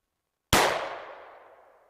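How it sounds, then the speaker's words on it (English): A single sharp, loud shot from a .44 Magnum revolver with a 6.5 inch barrel, firing a 200 grain cast lead bullet over 10 grains of Unique powder, cracking out of silence and ringing off in a long fading tail. "10 grains unique, 200 grain cast lead bullet,"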